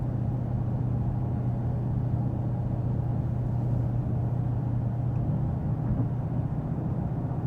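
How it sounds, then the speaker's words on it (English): Steady low rumble of cabin and road noise inside a 2023 Dodge Demon 170 on the move, with a faint brush of wind at the window seam, continuous and even throughout, no voices. "There's a little brush of wind noise here at the window seam."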